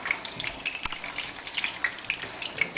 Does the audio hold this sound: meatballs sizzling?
yes